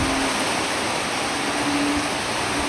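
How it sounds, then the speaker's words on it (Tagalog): Steady rain falls during Typhoon Pepito in Bicol, a continuous even hiss of moderate loudness with no distinct drops or gusts standing out and no talking. "Hindi pa rin natigil ang ulan."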